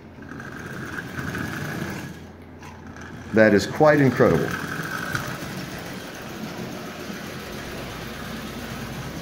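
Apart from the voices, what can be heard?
Marx 666 smoker toy locomotive running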